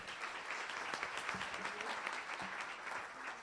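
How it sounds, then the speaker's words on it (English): An audience at an ICT seminar on digital transformation and IoT applauds steadily, a dense wash of clapping that carries on without a break and stays moderately loud. "One last time, another round of applause."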